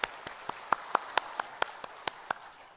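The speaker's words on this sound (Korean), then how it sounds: "우리 하나님께 박수 영광 올려드리겠습니다." Slow, sparse clapping from a church congregation at a Sunday service, about a dozen distinct claps spaced evenly over a few seconds, fairly faint with no talking.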